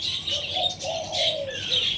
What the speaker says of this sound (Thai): พอเดินออกมานกก็เริ่มขันนะครับ